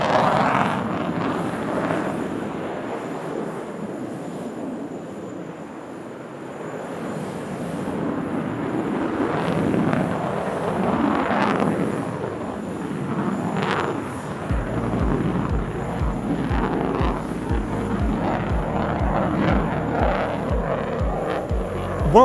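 Sukhoi Su-57 fighter jet performing a flying display at the Dubai Airshow, its engine roar rising and falling as it passes, loud but at some distance, with a rhythmic pulsing sound joining in toward the end.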